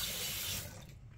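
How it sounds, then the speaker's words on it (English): Tap water runs steadily into a sink while a goatee is rinsed after shaving, a close hissing stream that thins out and fades toward the end. "I'm going to go ahead and rinse all this shit out of my goatee"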